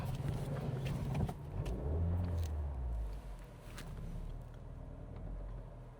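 A car engine revving while the car is held on a very steep street, a loud low rumble that swells and eases near the listener, with no talking.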